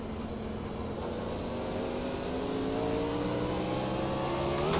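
A field of race cars in the iRacing video game accelerates at the green flag at Nashville Fairgrounds, engines rising together in pitch, a loud, dense and steadily climbing roar with no talk.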